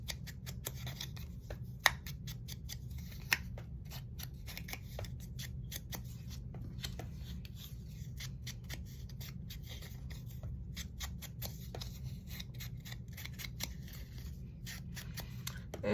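Scissors scrape along the paper edges of craft pieces to distress them, a long run of rapid, rhythmic rasping strokes with a couple of sharper clicks, close and steady with no talking.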